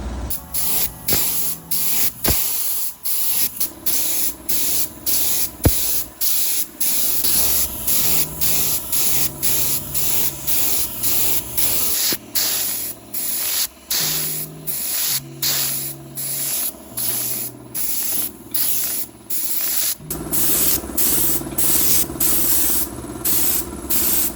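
Raptor liner coating sprayed onto a vehicle's front bumper, a loud continuous hissing spray in bursts with short pauses between passes.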